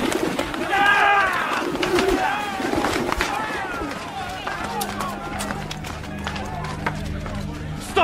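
Pigeons coo and flutter close by in a busy marketplace scene, with soft throaty calls and wing flaps under loud shouting voices and a crowd.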